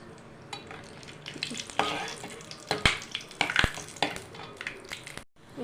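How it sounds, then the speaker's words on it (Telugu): Almonds and cashews fry in ghee in a kadai for upma, a steady close sizzle broken by sharp scraping and stirring clinks of a spoon against the pan, with no talking. "ఇంకా కొద్దిగా నెయ్యి పోసుకొని ఒక చెంచాడు రెండు చెంచాడు నెయ్యి బాదం పప్పు జీడిపప్పు ఫ్రై చేసుకోవాలి"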